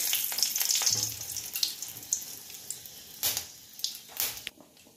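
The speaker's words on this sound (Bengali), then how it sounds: "তেল গরম হয়ে গেছে। আমি মানে শুকনো লঙ্কা ফোড়ন দেবো।" Dried red chillies crackle and sizzle as they hit hot oil in a pan, a bright frying hiss with sharp pops and spits that thin out and grow sparser toward the end.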